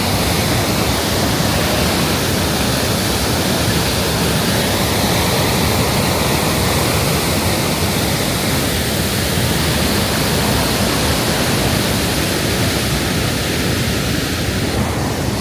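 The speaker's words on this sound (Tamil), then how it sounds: "சரியான தண்ணி பயங்கரமாக அடிக்குது தண்ணி" A rushing waterfall at Blyde River Canyon in South Africa roars loud and close in the rain, a dense, unbroken wash of white noise that stays steady throughout with no voices over it.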